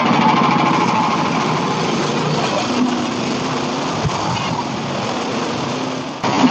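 Hudson Patriot sawmill ripping half-inch siding boards: a loud, steady mechanical drone of the engine-driven blade running continuously throughout, close by and without talk.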